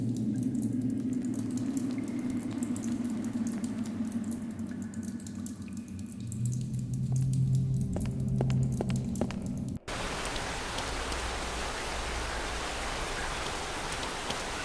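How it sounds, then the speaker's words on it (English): In the video game Lost Horizon, water drips and trickles in a stone chamber. A low ambient hum gives way to a loud, steady rush of running, splashing water in the second half, with no speech. "The dripping water's created an indent over time."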